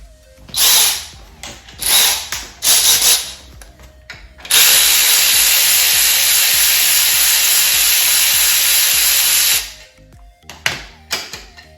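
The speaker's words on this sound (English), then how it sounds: "Let me use a ratchet to be quicker." A power tool, likely an impact driver or drill, loosens a bolt on a Nissan SR20VE engine in a 1991 Sentra B13. Short bursts come first, then one loud sustained run of about five seconds, then more brief bursts.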